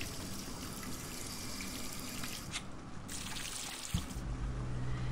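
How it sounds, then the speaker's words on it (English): Water fills a corked sink in the video game 9 Clues 2, a steady, moderately quiet trickle and splash that runs throughout, with a single soft knock near the end. "I can cork the sink if I need any water."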